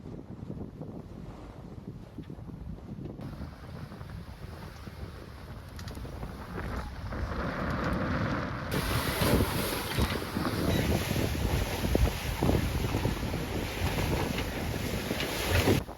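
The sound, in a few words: sailboat sailing through steep waves in wind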